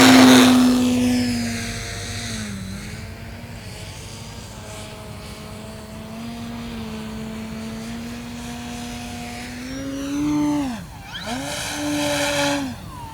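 An E-flite Timber RC model airplane flies overhead with a steady electric motor whine that shifts in pitch as it passes, growing louder and swooping near the end.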